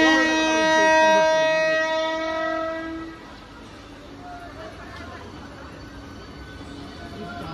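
A MEMU passenger train pulls into a platform, its loud horn sounding in layered tones for about three seconds before fading into rolling wheel and carriage rumble, with chatter in the background.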